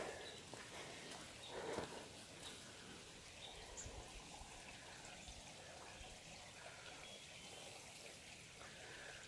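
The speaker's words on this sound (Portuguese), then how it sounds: "Curso d'água." A small stream flows beside a mountain trail at Pedra do Sino, a faint, steady trickle and babble of water continuing without a break.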